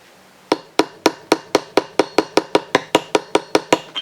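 A light hammer taps a prop shaft seal into its seat in about fourteen evenly spaced, sharp strikes, close and fairly loud, each ringing briefly before the next.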